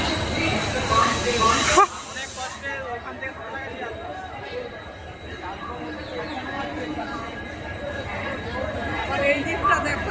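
Crowd chatter fills a busy platform at Santragachi railway station: steady, overlapping babble of many voices, fairly close, with a louder burst of noise early on before settling into continuous hubbub.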